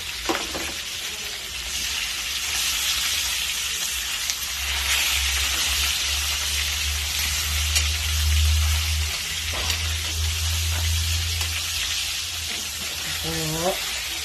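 Galunggong (round scad) fish fry in a pan with a steady, continuous oily sizzle and crackle, broken by occasional clinks and stirring, while someone talks briefly near the end.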